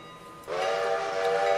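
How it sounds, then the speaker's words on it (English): A small shunting locomotive in the Railroader train simulation game. Its tonal, horn-like rail sound swells in suddenly after a brief quiet start and then holds steady and fairly loud to the end. "It's a good little shunting train"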